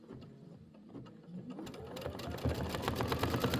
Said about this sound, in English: I'm going to go ahead and stitch out these petals